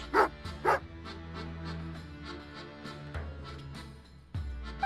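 A dog in Genshin Impact gives two sharp barks at the start and then quieter yips and whimpers over steady game music.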